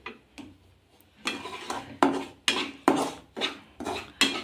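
Semolina powder is stirred into ghee in a pan, making a steady rhythm of about eight scraping, clattering strokes of a spoon against the metal, close up with no talking.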